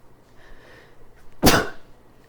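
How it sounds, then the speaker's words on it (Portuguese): A single sharp human sneeze bursts out loudly after a quiet breathy intake, brief and close to the microphone, with no talking around it. "Espirrei."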